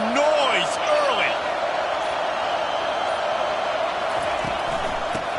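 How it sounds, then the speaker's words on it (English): Basketball arena crowd at an OSU versus Oregon game roars steadily throughout, a loud sustained wash of cheering and voices with a few whoops rising early on and a couple of faint sneaker squeaks near the end. "This crowd bringing the energy and noise early"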